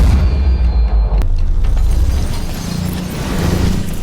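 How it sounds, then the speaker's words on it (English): A Soviet T-34 tank fires its cannon in a war film battle against Nazi tanks: a loud, close boom with a sharp crack, trailing into a long, heavy rumble. "The Soviet T-34 destroyed 2 Nazi tanks with just 1 shot"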